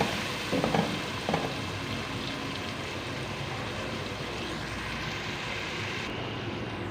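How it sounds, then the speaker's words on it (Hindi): Spices with salt sizzle and fry steadily in a pan, a dense continuous hiss close up with a couple of faint stirring scrapes early on, no voices. "मसालों को अच्छे से भून लेंगे 4 से 5 मिनट के लिए"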